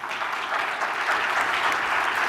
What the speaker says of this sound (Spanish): Un aplauso también para el doctor Pablo Rodríguez Belenguer.